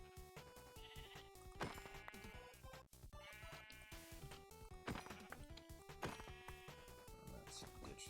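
Sheep bleating in the Minecraft video game, faint short calls over busy background game music with clattering effects.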